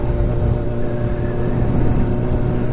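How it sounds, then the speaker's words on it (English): A steady, loud motorbike engine drone and rumble with wind noise, continuous throughout as if heard while riding. "Quite hard to talk loud over this motorbike"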